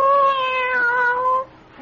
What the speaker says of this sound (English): Why, you're purring, aren't you?